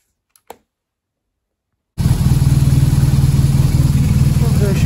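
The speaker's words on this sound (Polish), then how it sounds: "Gęsik odpalony, już chodzi troszeczkę" BMW R 1200 GS Adventure boxer engine starts after a near-silent pause and a faint click, then idles loudly and close with a steady rhythmic pulsing throb.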